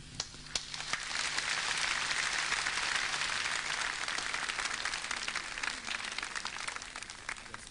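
A studio audience at a charity TV programme gives steady, sustained applause, a dense wash of many hands clapping at an even level from start to finish, with no talking.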